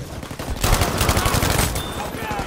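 Rapid bursts of Battlefield V gunfire rattle continuously, loud and dense, with a voice briefly talking underneath.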